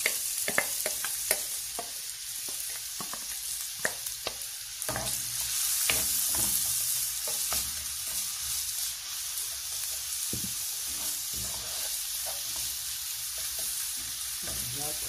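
Stuffed potato nests frying in hot oil, a steady close sizzle with scattered crackles and pops, plus a few knocks of a utensil early on and no talking.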